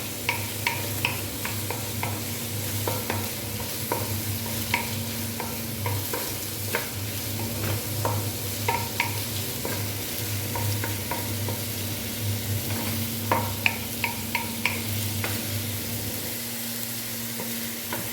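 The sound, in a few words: garlic sautéing and being stirred in a pan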